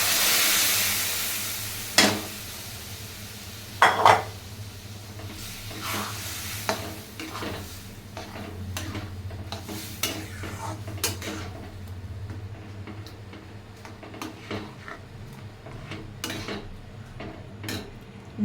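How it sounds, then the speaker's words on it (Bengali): Tempering spices in oil being added to a pot of dal and stirred, with scattered clinks of a spoon against the metal pot over a low sizzle, close and fairly quiet, with no talking. "এখন তরকাটা দিয়ে দিই"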